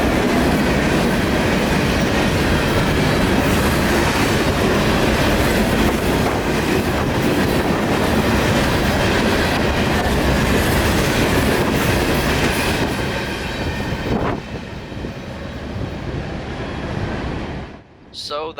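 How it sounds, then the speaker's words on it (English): CSX freight train Q452 rushes past at almost 60 mph, a loud, close roar of rolling cars and clattering wheels with some squeal, then the sound cuts off abruptly as the last car clears. "it really makes you appreciate the rest of the train as it whizzes past you at almost 60 miles an hour"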